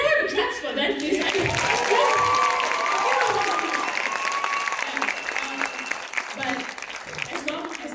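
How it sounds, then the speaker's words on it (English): Audience applause at a Bharatanatyam arangetram dance debut: dense, sustained clapping mixed with cheers and crowd voices, steady and full for the whole stretch. "Can I have a clap for that"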